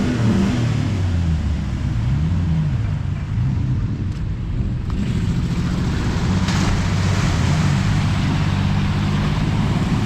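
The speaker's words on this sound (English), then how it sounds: "It's misfiring." An off-road vehicle's misfiring engine at an off-road centre, a loud, continuous low rumble with an uneven, lumpy pulsing rhythm that stays close and steady, with no talking.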